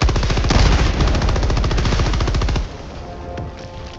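Rapid, loud turret machine gun fire from the Helldivers 2 video game, a dense unbroken burst of shots for over two seconds that cuts off abruptly, leaving quieter background game noise.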